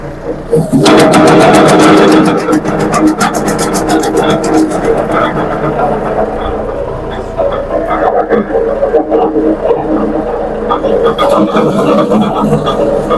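An Arpal AM-120TR wood chipper driven by a Shifeng 244CL mini tractor runs at idle, a loud steady mechanical drone with a rhythmic rattle throughout.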